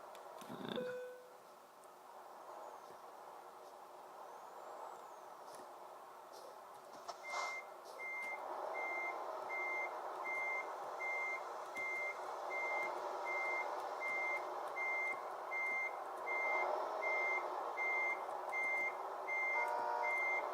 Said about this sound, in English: You can hear the traffic behind me, not happy with me at all.